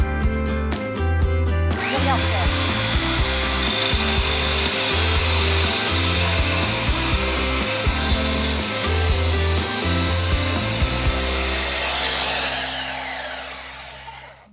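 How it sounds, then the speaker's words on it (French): A loud alligator saw whirs steadily, grinding through brick for several seconds before winding down at the end. "c'est une scie spéciale pour couper la brique."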